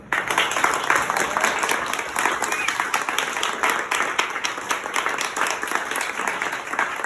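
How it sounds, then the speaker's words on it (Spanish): Audience applause at a book presentation for the novel Cocodrilos by Magali Velasco, a dense, steady wash of many hands clapping that stays loud and even for the whole stretch. "Un aplauso, por favor."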